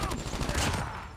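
Rapid gunfire from a fast fire rate weapon in the mobile shooter Call of Duty Mobile, a dense continuous burst of shots filling the short moment, loud and close.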